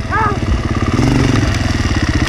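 An enduro motorcycle on a hard enduro course at Rudozem revs loudly and continuously, its engine note rising and falling up close while people shout in the background.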